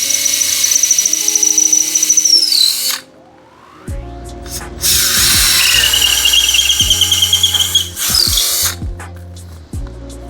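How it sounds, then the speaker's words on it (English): A power drill bores a hole through a wooden block cut from pallet wood, its bit screeching and whining loudly at close range. The motor runs in two long bursts separated by a brief pause, with sharp squeals and rubbing scrapes. "we're gonna drill a hole all the way through the block for the wire to go through"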